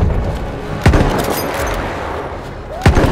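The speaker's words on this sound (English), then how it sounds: "let's pull out our sniper rifle" Two sharp sniper rifle shots fire in the video game Battlefield, spaced about two seconds apart, each loud and cracking with a brief tail, over continuous game background noise.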